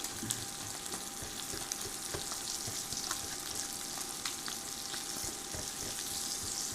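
Food sizzles steadily in a cast iron skillet on an induction burner, a dense, even crackle of frying oil with occasional scraping taps as it is stirred around.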